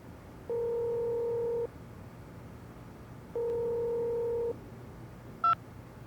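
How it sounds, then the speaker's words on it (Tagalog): Telephone tones in a Filipino radio drama: two long, even electronic buzzing tones, each lasting just over a second with a pause between them, then a brief high beep, all faint and with no voices. "Bakit tawagan mo naman, Winfred?"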